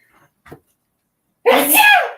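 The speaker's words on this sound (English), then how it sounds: "And he's going to sneeze." A single loud, close sneeze bursts out sharply near the end after a couple of faint small sounds, an explosive and breathy release.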